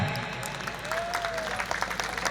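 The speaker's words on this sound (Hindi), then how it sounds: "जोरदार ताली बजाए" A crowd claps in a brief round of applause at a village gathering, with scattered sharp claps over a continuous background, alongside a faint whistle-like tone.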